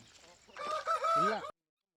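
A Tamil Nadu breed rooster in Karnataka crows once, loud and close, with a drawn-out call following a few soft clucks, then stops abruptly into silence.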